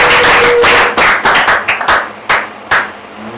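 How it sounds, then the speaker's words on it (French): An audience applauds the children at a community event, a loud burst of clapping that thins into scattered separate claps as it fades. "Applaudissez encore une fois les petits pour la."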